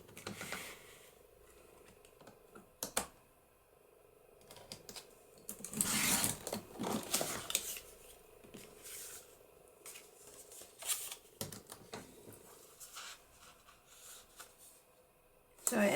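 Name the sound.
trimming sturdy cardstock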